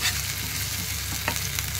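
A garlic, ginger and green chili paste fries in hot oil, with a constant loud sizzle and a few light scrapes of stirring. No one talks.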